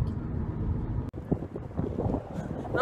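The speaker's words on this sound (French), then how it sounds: "Mais il y a beaucoup de vent." Strong wind buffets the microphone outdoors, a steady low rumbling roar with a brief dropout partway through, and no talking.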